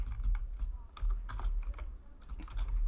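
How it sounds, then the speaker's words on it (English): Code is typed on a computer keyboard in quick, irregular bursts of soft clicking keystrokes, close by and with no speech. "so that you can actually see what I'm typing here"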